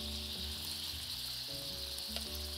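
Pieces of meat sizzling in a pan after lemon juice is poured over them, a steady faint hiss under a low hum that rises and falls.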